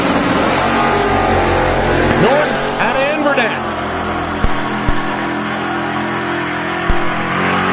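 An LS-powered S10 pickup truck makes a drag strip run, its engine a loud sustained roar that rises in pitch and then fades into the distance, with a race announcer talking over it.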